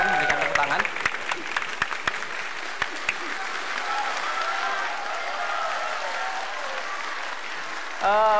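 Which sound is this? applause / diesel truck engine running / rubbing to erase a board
applause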